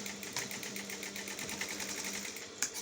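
Sewing machine stitching the slit of a halterneck dress, a steady close whirr with a rapid needle rhythm that runs continuously for a few seconds, no voices.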